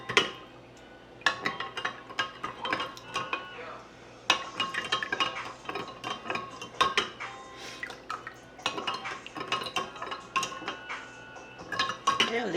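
A honey glaze mixture stirred in a pot, with a utensil clinking and scraping against the metal in irregular bursts, close and fairly quiet, while someone talks briefly.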